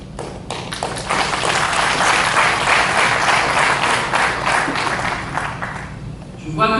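Audience applause during a talk, building from scattered claps into steady, loud clapping that holds, then thins out at the end, with some voice mixed in.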